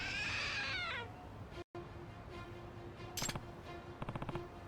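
A trick statue in the video game Lost Judgment lets out a short meow near the start, followed by mechanical clicking and a quiet hum, with rapid rattling bursts later on.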